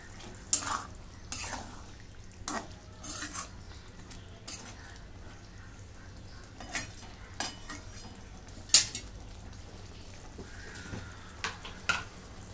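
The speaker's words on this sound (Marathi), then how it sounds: "तर इथे मी अशी अंडी चिरून घेतलेले आहेत, टाकून घेते, मिक्स करून घेते।" Chopped boiled eggs are stirred into egg masala in a pan, soft scraping and clinking of a spoon against the pan in scattered strokes over a faint low background sizzle, with no talk.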